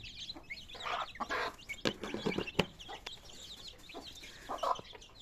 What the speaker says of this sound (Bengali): দুটা মুরগি দুই পাশে দিয়ে দিলাম খাবার